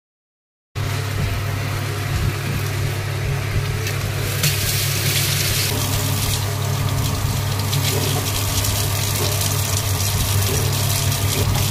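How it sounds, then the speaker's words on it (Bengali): Fish being washed under a running tap in a kitchen sink fitted with a steel sink guard, a steady close gush of water that runs unbroken after a brief silent start, with faint clatter. "যাক চলো আগে মাছগুলোকে ধুই।"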